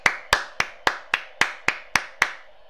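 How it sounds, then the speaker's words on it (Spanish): A handful of slow, evenly spaced claps from one person, about nine sharp hits at a steady rhythm, close and fairly quiet, honoring the football player Kalulu after the Inter 1-2 Milan derby. "Aplausos para nuestro pana."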